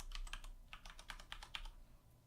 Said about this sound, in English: You want to type in a new password.